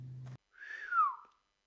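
A person gives a single appreciative whistle, a clear tone that rises then slides down over about a second, following a brief low hum and heard alone in near silence.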